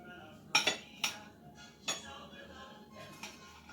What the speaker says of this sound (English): So I'm going to get this all chopped up